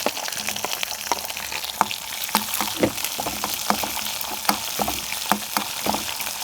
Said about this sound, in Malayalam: അണ്ടിപ്പരിപ്പ് ഇട്ട് കൊടുക്കാം കേട്ടോ നെയ്യ്ക്ക്.